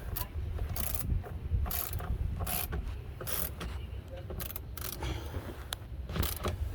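Ratchet clicking in quick bursts while a bolt beside the MAF sensor on a car's throttle body is tightened, close up and fairly quiet, with short pauses between the runs of clicks.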